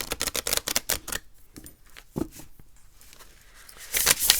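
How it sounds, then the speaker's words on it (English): Rota Mundi tarot cards with hard gilded edges, slightly stiff, being shuffled: a rapid run of crisp papery slaps and riffles, a pause with a few scattered taps, then a final loud flurry close by. "But they shuffle nicely."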